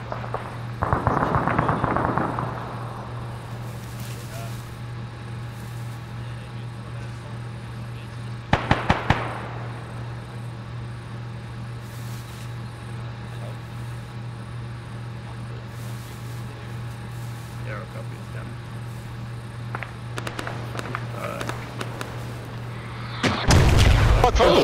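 A tank in a combined-arms military game fires nearby: a loud boom at the start, another sharp blast midway and a heavy report at the end, over a steady engine hum.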